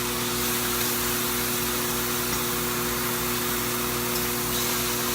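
A kitchen blower fan runs on high next to a stovetop pan of partly frozen meat being broken up, giving a loud, steady whooshing roar with a constant low hum throughout.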